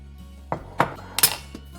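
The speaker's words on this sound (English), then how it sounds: "Stir vigorously to combine the cucumber and the yogurt." A spoon stirs cucumber and yogurt in a bowl for tzatziki, giving a few crisp separate clinks and taps against the bowl in a quiet kitchen.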